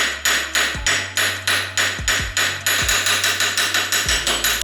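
A cheap IKEA hammer pounds again and again on a seized ball joint during coilover work on a 2019 Dodge Charger Scat Pack, the sharp metallic blows coming close and loud in a fast, steady series of about fourteen strikes.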